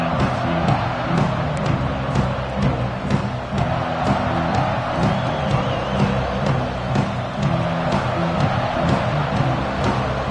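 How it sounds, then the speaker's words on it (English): A stadium crowd in a college football video game, Texas at LSU, roars in a thick, sustained wash of cheering with scattered sharp whistles and whoops, loud and steady without a break. "This crowd bringing an ear-splitting welcome to their visitors."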